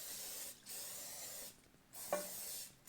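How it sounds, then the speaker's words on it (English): Cooking spray hisses from an aerosol can onto a 9x13 baking pan in a home kitchen, in several steady bursts separated by short pauses, close and fairly quiet. "grab your pan, your 9x13, grab your cooking spray, and just do a nice"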